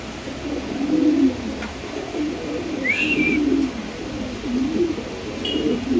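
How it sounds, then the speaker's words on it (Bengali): A pair of black Beauty pigeons coo in soft, repeated low phrases close by, with a couple of brief high chirps from another bird and no voices. "তো দর্শক এখানে আছে একজোড়া কালো বিউটি কবুতর"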